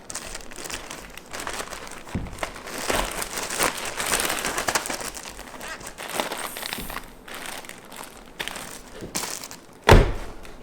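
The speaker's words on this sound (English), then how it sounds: "Recycled plastic bag." A recycled plastic bag crinkles and rustles in irregular bursts while camping gear is packed for the wilderness, ending in a sharp louder crackle near the close.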